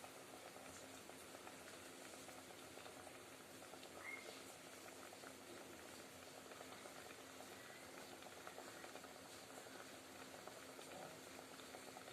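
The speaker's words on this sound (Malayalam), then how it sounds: "വെള്ളം തിളച്ച് വരുന്നുണ്ട്" Water bubbles at a steady rolling boil in a pot, a soft continuous patter with no talking.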